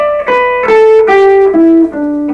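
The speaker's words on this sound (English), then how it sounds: "now we're going to take that scale and play it 5 notes down at a time, like so" An electric guitar plays a descending pentatonic scale in groups of five notes, with clear sustained single notes stepping downward in about five plucks, close and alone without speech.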